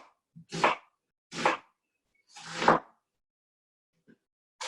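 A knife chops an onion into medium chunks, three separate thuds against the board with short pauses between them, close and clear with no talk.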